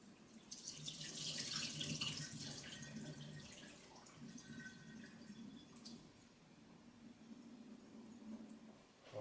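Rinsed rice drains in a kitchen sink, with water running and trickling steadily for several seconds, fuller at first and then easing to a softer flow, with no one speaking.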